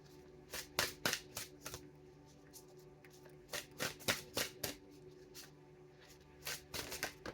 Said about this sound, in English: gonna pull a card